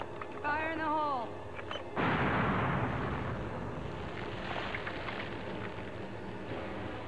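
A loud blast erupts in a monster-movie scene after a brief voice, followed by a long rumbling roar of debris and rubble that slowly fades under continuing low noise.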